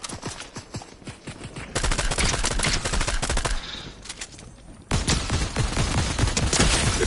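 Rapid automatic gunfire during a Fortnite match, sustained bursts and repeated shots that grow louder after two seconds and jump again near five seconds, with no talking over it.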